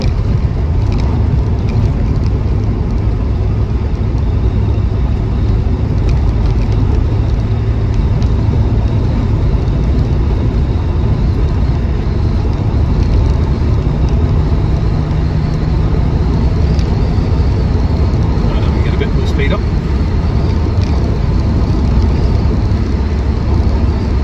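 Interior drone of a 1974 MG B GT V8 cruising at about 30 mph behind a van, a steady loud low engine and road rumble that holds constant throughout.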